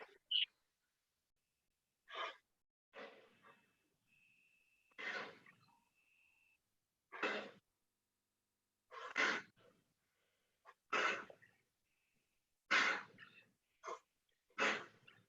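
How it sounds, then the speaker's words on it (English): Forceful, fast exhalations from a yoga breathing exercise, about nine sharp nasal bursts spaced roughly every one to two seconds, close and alone in an otherwise quiet room. "So now he starts breathing out. Shoot out."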